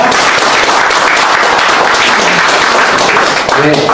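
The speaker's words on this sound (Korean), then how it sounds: "함께해 주신 우리 신보석 선생님께 다시 한번 감사의 박수 부탁드립니다" A crowd at a Seoul Station plaza rally applauds in thanks, dense clapping loud and close, with a voice briefly audible over the applause near the end.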